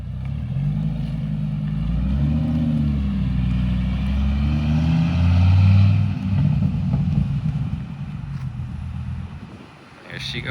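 A Viper-powered Dodge Ram SRT-10 pickup drives away, its deep engine rumble and revving rising and fading over wind noise as it pulls off, with a voice speaking over it.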